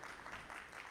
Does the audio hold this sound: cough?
no